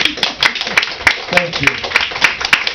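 Audience clapping after a poetry reading, a thin patter of hand claps at a steady pace with a voice speaking briefly over it, close and fairly loud.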